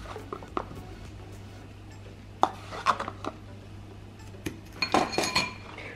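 A spoon clinks against a dish while baking soda is measured in for cleaning stainless steel, with a few sharp scattered taps early on, then a quick cluster of bright metallic clinks near the end, over a low steady hum.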